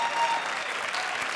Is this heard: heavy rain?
no